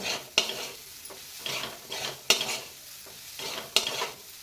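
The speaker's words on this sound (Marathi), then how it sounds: "आपण हा नारळाचा खीस छान दोन तीन मिनिटे परतून घेतला आहे" Grated coconut stir-fried in a dry pan, a steady soft crackling sizzle with three sharp spatula scrapes against the pan and quieter stirring strokes between them, close and alone.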